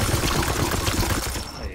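A dense, unbroken volley of gunfire in Warhammer 40k: Chaos Gate - Daemonhunters roars loud and close for under two seconds, a thick crackling barrage that eases slightly at the end.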